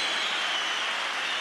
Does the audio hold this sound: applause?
yes